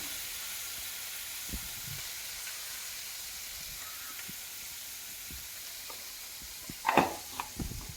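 Turmeric powder is added to a frying pan for lemon rice, a steady soft sizzle hissing throughout, with a few scattered clinks and a brief clatter of utensil against pan toward the end.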